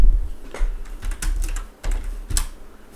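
Left-handed typing on a computer keyboard, a quick uneven run of close, crisp key clicks with a couple of louder strokes and short gaps, heard alone without talk.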